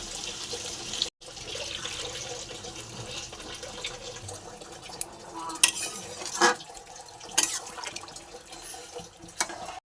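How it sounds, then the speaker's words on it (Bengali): Heated water being poured into a pot of mutton curry, a steady close splashing flow with a few clinks of a utensil or vessel toward the end, no voices. "পরিমাণ মতো জল দিয়ে দেবো"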